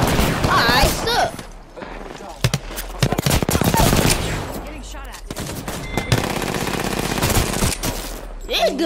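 Rapid automatic gunfire from a weapon in the Apex Legends shooter, loud close bursts of fast shots in several strings with brief pauses, mixed with game effects and a player's voice.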